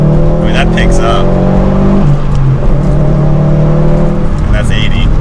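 A Subaru WRX STI accelerating hard in third gear from about 40 mph, the engine note climbing steadily and loud inside the cabin while people talk over it.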